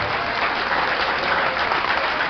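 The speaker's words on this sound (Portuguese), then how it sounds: "Então aplauda Jesus." A church congregation breaks into dense, even applause during a preacher's sermon, a steady continuous clapping crowd with no speech over it.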